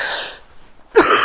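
A woman imitates a deep chesty cough, a short rough burst that fades, then after a brief pause a second harsher cough bursts out loud and close.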